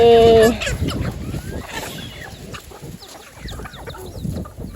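Chickens on a farm cluck and chatter in short, overlapping calls at close range, with a brief sharper tone at the start and a busy rustling, scratching background.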